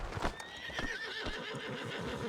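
A horse in the Western video game Red Dead Redemption 2 gives a long, wavering whinny over steady hoof clops and ambient game noise, close and prominent throughout.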